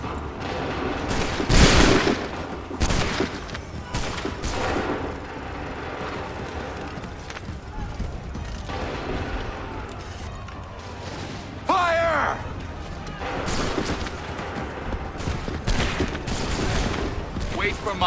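Musket volleys in Assassin's Creed 3 Remastered on Xbox One, several loud crackling fusillades of massed shots with rumbling echoes, mixed with shouted commands and battle noise throughout.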